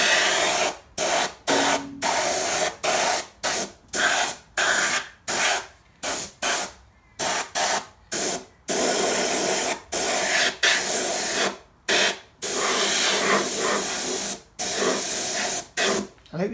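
A cheap compressor-fed spray gun sprays paint thinned 10% with xylene onto a vehicle chassis, edges first, in a long series of loud, close hissing bursts separated by short pauses.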